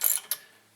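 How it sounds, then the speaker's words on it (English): A 3/8 ratchet fitted with a 7mm socket gives two quick, close clicking bursts as it loosens a bolt on a 2004 Volkswagen Jetta TDI during front brake work. "taking our 7mm socket or 7mm hex bit on our 3/8 ratchet, I'm going to go inside that little tube that we took the cap off of"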